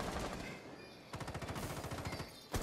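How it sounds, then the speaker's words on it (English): Rapid automatic gunfire in Rainbow Six Siege, a dense burst of shots at first, then a steady rattling machine-gun rhythm for over a second before a sharp final blast. "I'm getting shot through the window! Through the wall!"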